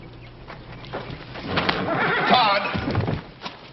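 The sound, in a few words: horse neighing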